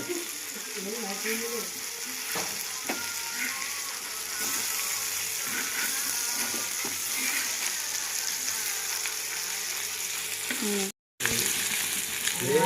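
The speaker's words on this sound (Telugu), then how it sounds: "అదిగోండి ఫిష్ ఫ్రై అయితే రెడీ అయిపోతుంది" Fish frying in oil, a steady dense sizzle with occasional stirring clatter, close and fairly loud, with a brief dropout near the end.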